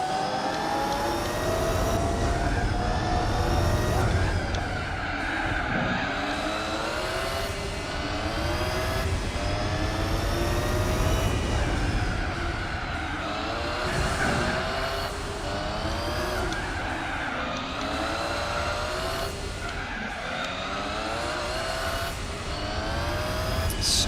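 A race car engine in Gran Turismo 4 roars steadily throughout, pitch climbing and dropping with gear shifts and revs, with occasional tire squeal, loud and continuous.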